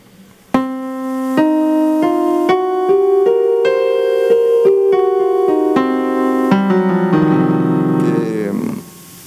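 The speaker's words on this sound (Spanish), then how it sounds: "Entonces la escala con la Blue Note" Single sustained melodic instrument runs up and down a blues scale that includes the blue note. About ten clear, evenly spaced notes sound close and alone, ending in a wavering final tone that fades out.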